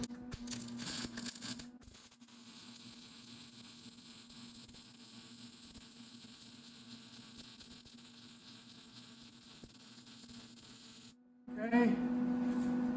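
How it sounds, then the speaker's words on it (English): Welding on a fabricated front lift for a John Deere X570 lawn tractor gives a steady, close buzzing crackle with an electrical hum for about eleven seconds, then cuts off briefly before louder handling noise. "Okay, we're gonna weld this up a sec."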